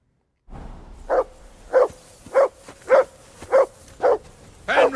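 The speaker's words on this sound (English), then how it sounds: "That barking was a pain in the ass." A dog in the Kingdom Come Deliverance 2 video game barks seven times in an even, steady rhythm, each bark sharp and fairly close, with the last one a little louder and harsher.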